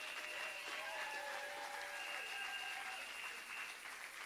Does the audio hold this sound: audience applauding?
yes